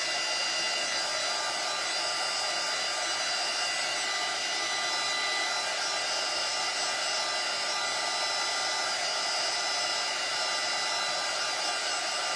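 A hair dryer blows continuously at close range to dry a mould and decoupage craft project, a loud, steady whooshing roar with no pauses and no talking.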